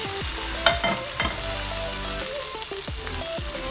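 Payasam is stirred in a pan just after roasted ingredients are poured in, a loud bubbling sizzle with repeated spoon scrapes and a couple of sharp knocks against the vessel.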